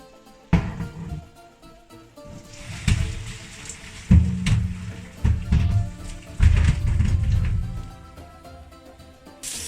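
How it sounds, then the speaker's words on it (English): Water from a pot of boiled potatoes poured and splashing in bursts into a sink, with rushing, gurgling spurts and clanks between pours. "Now I'm going to drain the water."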